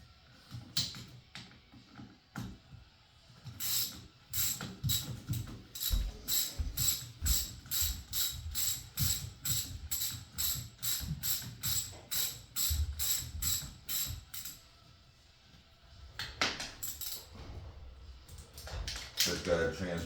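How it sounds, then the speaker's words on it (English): A socket wrench ratchets in a fast run of sharp, evenly spaced clicks, loosening 10 mm sprocket bolts on the rim of an 80cc gas motorized bicycle, with a second shorter burst of clicking near the end. "I have to take these bolts off and just transfer it."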